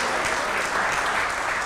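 A church congregation applauds during a sermon, a dense, steady wash of many hands clapping at fairly close range, unbroken across the short stretch with no voices rising above it.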